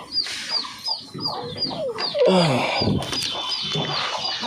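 Hens cluck repeatedly nearby in a coop with newly hatched chicks, with short rhythmic calls and a few louder squawks, little else around them.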